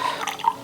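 Lukewarm water being poured into a compact mixer for bread dough, a brief close trickle and gurgle of liquid without voices.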